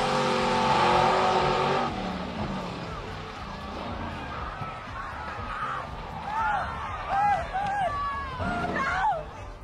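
Two drag racing cars launch off the line together in a loud roaring burst of engine noise that fades after a couple of seconds. Crowd hubbub and scattered high chirping tones follow.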